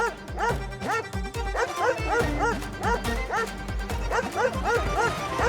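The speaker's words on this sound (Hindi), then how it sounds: "फिर ये इतनी जोर से कैसे भौंक रहा है?" A small dog barks loudly and repeatedly in quick, yappy bursts, with occasional whimpering yips between them, close and dominant throughout.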